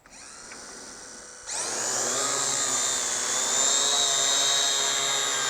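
A Syma X8 clone quadcopter with a tiltable camera hovers close by; after a faint whine, its motors suddenly jump to a loud, steady high-pitched buzz that holds and swells slightly as it descends to land.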